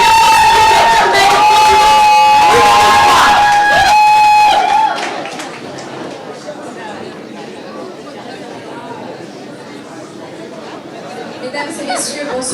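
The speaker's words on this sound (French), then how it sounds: "On l'applaudit bien fort, Carmel." Pageant audience applauding a contestant at an evening Miss East Africa event: loud crowd clapping and cheering that fades into lower murmuring chatter, with music present at the start.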